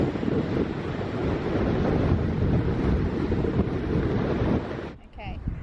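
Strong wind buffets the microphone on the Bedruthan coastal path in Cornwall, a loud continuous roar that drops away abruptly near the end.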